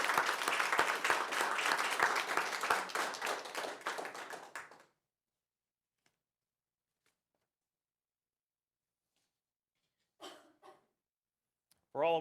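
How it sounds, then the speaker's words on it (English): An audience at a school board meeting gives a dense, loud round of applause that lasts several seconds and cuts off into near silence, followed by faint brief voices. "let's give them a round of applause for their effort."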